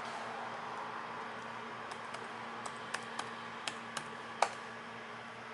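Keys on a Windows laptop keyboard are tapped in a short, sparse burst of soft clicks, about eight keystrokes spread over a few seconds above a low, steady room hum.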